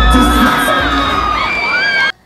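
Fans at a Korean youth dance competition at an outdoor food festival scream and cheer as one loud, continuous crowd roar that cuts off sharply near the end.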